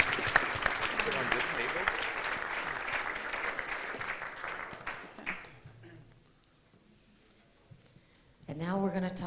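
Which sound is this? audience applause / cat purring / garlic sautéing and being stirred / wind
audience applause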